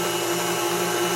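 An electric mixer churns cream into homemade butter with a loud, steady motor whine and whir, continuous and close.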